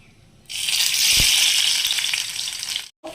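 A sudden loud sizzle as soybean omelette rolls drop one by one into hot oil, a steady crackling fry that continues for a couple of seconds before cutting off.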